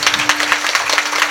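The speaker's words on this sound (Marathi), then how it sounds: "टाळ्या वाजवा" An audience at a Marathi kirtan claps in a quick, even rhythm, a brief burst of close, bright handclaps with a steady tone humming underneath.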